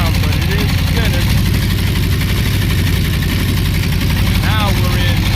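A Ford 351W V8 with a C4 automatic transmission runs steadily on a ground test stand, its loud, even drone holding in gear throughout; someone talks over it.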